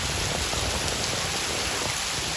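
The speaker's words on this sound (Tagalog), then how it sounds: "So malakas ang ulan dito ngayon guys," Heavy rain pours steadily over an outdoor spot where soldiers are on duty, a dense, even hiss that fills the whole stretch without pause and carries no voices.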